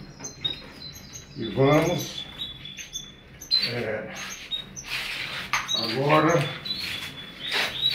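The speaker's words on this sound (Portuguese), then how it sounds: "o Ciro, que é o passarinho do Serginho, canário cantador e fogoso" A pet canary trills and chirps in high, bright bursts, close by in a home, while people talk over and between its song.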